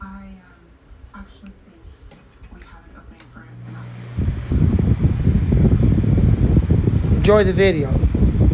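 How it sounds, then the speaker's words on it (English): A Vornado 460 fan switched to full power gives a loud, steady broadband whoosh of moving air that begins about halfway through, replacing a quieter start; someone talks briefly over it. "let's go ahead and run this Vornado 460 at full power"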